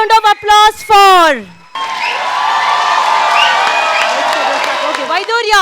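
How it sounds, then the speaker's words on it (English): A crowd at a school annual day function in JP Nagar bursts into applause and cheering for young performers, a dense wash of clapping and shouts after an announcer's voice, with talk resuming at the end. "A big round of applause for"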